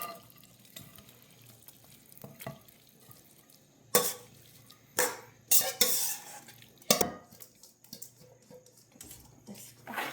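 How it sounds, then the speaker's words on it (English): A spoon scraping and clinking as stuffed cabbage roll mixture is spooned into a casserole pan, quiet stirring and scraping with several sharp louder clanks of utensil on pan. "now we are just going to put this into our casserole pan here"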